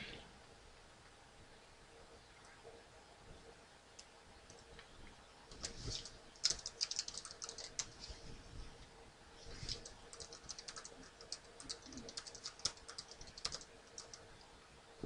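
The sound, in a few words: typing a username on a computer keyboard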